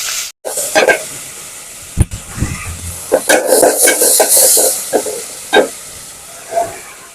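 Shrimp fry lightly in a pan, crackling loud and close, with bursts of stirring and scraping over a hissy sizzle and no voices.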